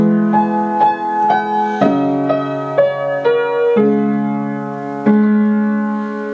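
A piano plays two bars of a piece from Twilight slowly. A gentle melody of single notes moves over ringing lower chords, close and clean, with no voices.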